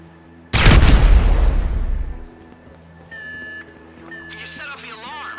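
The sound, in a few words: explosion in video game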